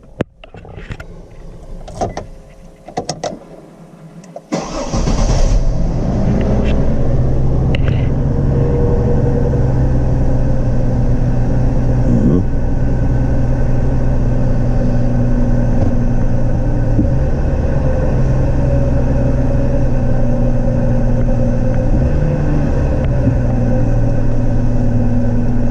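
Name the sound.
GMC Envoy car engine starting and idling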